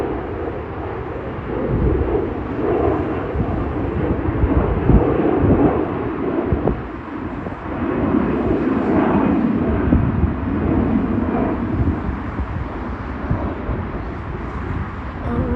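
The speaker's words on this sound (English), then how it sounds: "I was never so close to a plane." Airliner passing very close overhead at Leipzig airport, a loud sustained roar that swells and dips over about fifteen seconds with no voices over it.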